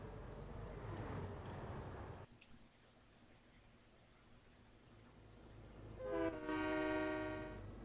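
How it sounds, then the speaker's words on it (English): A trolley horn sounds in the Trainz railway simulator, a sustained harmonic blast rising near the end of the clip after a stretch of low rumbling engine and track noise. "That's what trolleys sound like."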